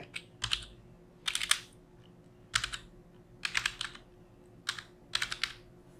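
Bursts of rapid key clicks on a computer keyboard as text is typed, arriving in several short clusters separated by pauses, close and fairly quiet with no voices.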